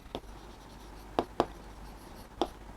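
Writing an answer by hand, probably chalk or pen strokes on a board or paper, four short scratchy strokes, two close together in the middle, against a quiet room hum.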